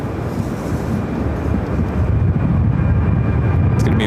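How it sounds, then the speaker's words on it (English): A loud, steady jet engine roar with deep broadband rumble, sustained and close, as a Honeywell Boeing 757 takes off from Phoenix airport on a windy day. "Should be the next takeoff on 7 left."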